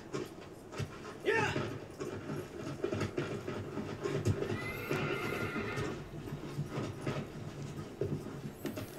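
Horse neighing and hooves clopping in the video game Shadow of the Colossus, with a rising whinny mid-clip over steady hoofbeats and ambient game sound, while a player talks throughout.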